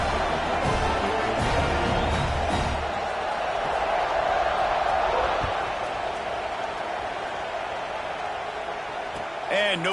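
A football stadium crowd at Washington vs Florida keeps up a sustained roar of cheering, with a commentator talking over it throughout.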